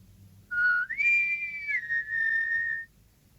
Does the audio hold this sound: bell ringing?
no